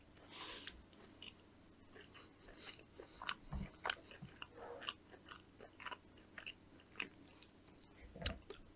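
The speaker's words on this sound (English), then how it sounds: "Breakfast cereal chewing, not even cereal, what is this? Muesli chewing" Close-miked chewing of muesli, an uneven series of wet crunches and clicks spread over several seconds with a couple of low thumps, no talking.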